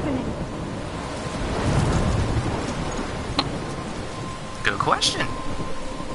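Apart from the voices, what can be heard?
thunderstorm and rain in Life is Strange video game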